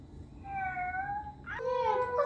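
A child imitates a cat with two drawn-out, high meows, the second rising in pitch, over a low murmur of room noise.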